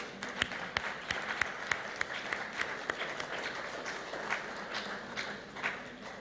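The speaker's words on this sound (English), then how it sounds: "We need to clap for you." An audience at a regional women's forum ceremony claps, with several sharp individual claps standing out at the start over a steady, moderately quiet patter of applause that continues to the end.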